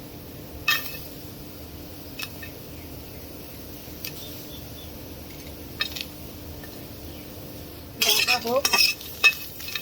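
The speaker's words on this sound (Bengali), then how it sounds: "কালিজিরা আর চাপা ভর্তার জন্য রসুন আর কাঁচামরিচ ভেজে নিব" Garlic and green chilies fry in a pan with a steady low sizzle, broken by a few sharp scrapes and clinks of a stirring utensil near the end.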